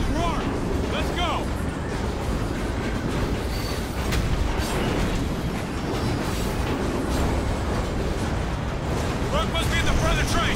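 Train in the Call of Duty Ghosts game, a loud continuous rumbling and clattering of rail cars mixed with gunfire and explosion-like bursts, with voices heard over the din.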